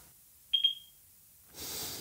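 A Blaupunkt SA 2900-R wireless home alarm system gives a short double electronic beep on being unlocked, clear against a quiet room, followed by a soft hiss of background noise.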